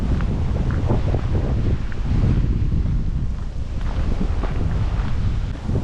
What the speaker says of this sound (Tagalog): Tingnan naman ang lakas ng hangin no.